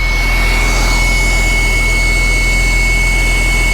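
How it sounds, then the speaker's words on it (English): A Porsche 996 911 engine runs briefly with no coolant in the system, a loud steady drone with an injection pump whining alongside it, close and continuous. "I forgot all about that injection pump running right there."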